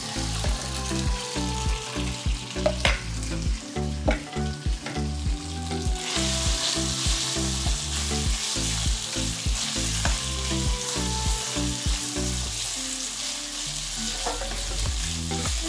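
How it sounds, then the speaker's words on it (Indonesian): Steady, loud sizzling of chicken frying in hot oil for kung pao chicken, with crackles and pops throughout and occasional clatter of stirring. "kita kena goreng ayam ni sampai dia jadi golden brown ya"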